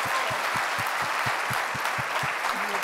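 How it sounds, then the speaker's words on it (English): A large audience gives a sustained round of applause at a live closing session, a dense, continuous wash of clapping with a faint rhythmic thump underneath, loud and steady from start to end. "Round of applause, please."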